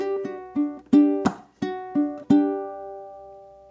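A ukulele plays bar 21 of a song as a short phrase of about seven clear plucked notes, close and alone, with the last note left ringing.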